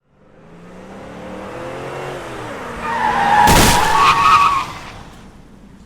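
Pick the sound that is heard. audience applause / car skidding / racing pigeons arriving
car skidding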